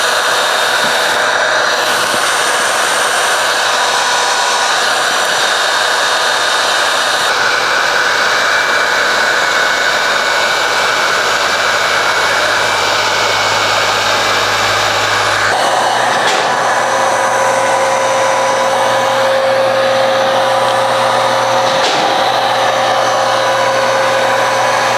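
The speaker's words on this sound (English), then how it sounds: "We'll use a heat gun on him later." A heat gun blows a loud, constant whoosh while paint protection film is applied to a Ram TRX 1500 with a 6.2L V8, the airflow shifting pitch twice as the setting or angle changes, with no voices.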